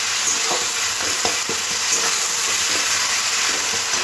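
Chopped tomatoes with salt and turmeric powder stir-fried in a pan: a loud, dense, continuous sizzle close up, broken by regular soft scrapes of the spoon, with no voices.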